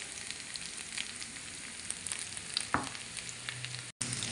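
Onion sizzles as it is added to beef ham and turkey ham frying in a pan for scrambled eggs, a steady close crackle with a brief stir and a short gap near the end.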